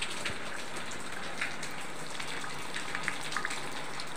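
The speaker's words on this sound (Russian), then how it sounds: "У нас тут дождик." Steady rain patters on a surface, a soft continuous hiss dotted with occasional individual drops, fairly quiet and close.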